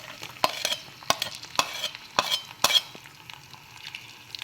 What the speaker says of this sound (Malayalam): ഓയിൽ ചൂടായി വരുമ്പോൾ 2 മുഴുവൻ വെളുത്തുള്ളി അരിഞ്ഞത്, ചെറുതായി അരിഞ്ഞതാണ് ഇവിടേക്ക് ആഡ് ചെയ്യേണ്ടത്.